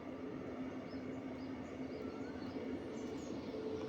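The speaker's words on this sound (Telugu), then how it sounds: "ఇప్పుడు వెళ్తుంది జనరల్ ట్రైన్." A passenger train passes near Shamshabad, a steady close rumble of rolling cars holding constant throughout, with faint bird chirps above it.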